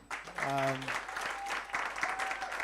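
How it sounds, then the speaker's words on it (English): Workshop attendees give a brief round of applause, faint and somewhat distant, following a short spoken voice at the start. "let's give Mama Sapiu a round of applause"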